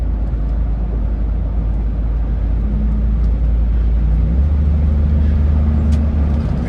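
A Cadillac Escalade with freshly repaired rear suspension accelerating hard on a road toward highway speed, a loud steady engine and road roar that deepens and swells midway, heard from inside the cabin without talk.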